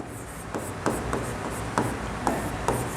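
Chalk or marker writing on a board during a physics lesson on electric dipoles, with short scratchy strokes tapping out at irregular intervals over a steady room hiss, fairly faint and close.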